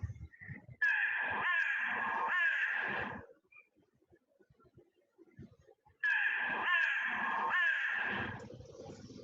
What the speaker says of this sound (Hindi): इसके बाद है कौवे की काएं